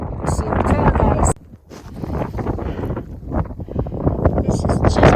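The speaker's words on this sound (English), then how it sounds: "The wind is blowing, but it's really nice out." Wind gusting across an open mountain bald on the Appalachian Trail, a steady loud rush buffeting the microphone with a brief lull partway through, rising again as a hiker talks.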